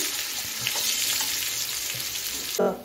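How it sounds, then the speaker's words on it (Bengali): Finely chopped garlic, ten cloves, sizzles in hot oil over a tempering of whole spices for a Bengali chechki; a steady, close frying hiss runs throughout, flaring into a brief louder burst near the end. "এখন আমি রসুন কুচিটা দিয়ে দিলাম"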